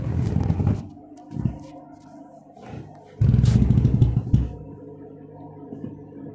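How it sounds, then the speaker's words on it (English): An overloaded washing machine rattles violently in an extreme spin cycle, a loud clattering roar that surges, eases off, then bursts back in heavily before settling into a lower rumble. "Never had a spin cycle like this before."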